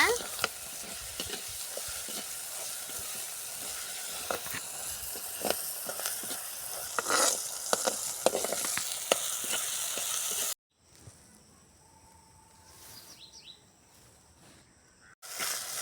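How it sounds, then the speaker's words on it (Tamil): Spices, crushed pepper among them, sizzle and are stirred in a pan for a Tamil-style potato fry, a steady loud frying hiss with scraping strokes that cuts off abruptly to quiet near the end. "மூணுத்தையும் போட்டு நல்லா வணக்கிக்கோங்க"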